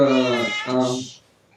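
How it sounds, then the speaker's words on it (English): A house cat meows close by, one long drawn-out tonal meow with a rising and falling bend, loud and clear with a brief breathy end. "My cat come to say hello."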